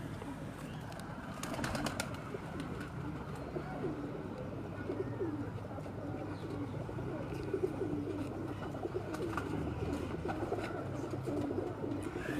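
Continuous soft, low cooing of a male pigeon on a rooftop over a steady background murmur, with a few faint chirps and clicks scattered throughout.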